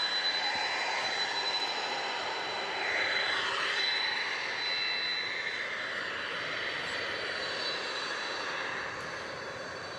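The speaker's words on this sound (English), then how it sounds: "And there goes the 767 off to Louisville." A 13-year-old Boeing 767 takes off at night from DFW Airport bound for Louisville, its jet engines producing a broad, steady roar that swells slightly midway and fades a little near the end.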